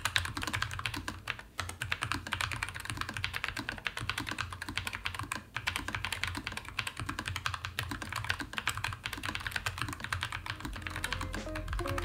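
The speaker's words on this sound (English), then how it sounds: "the specific keyboard that I have here has the Nuphy Linear Daisy switches installed." Steady, fast typing on a Nuphy Air 75 v2 low-profile wireless keyboard fitted with Linear Daisy switches, a dense run of soft clacks heard close and alone with no talking.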